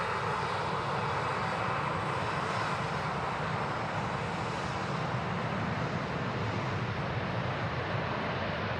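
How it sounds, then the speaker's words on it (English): A Jet2 Boeing 737 airliner at Manchester Airport, its engines producing a continuous broad roar that stays loud and steady throughout, with no voices over it. "There was a Jet 2 that snuck in then, actually, with a 737."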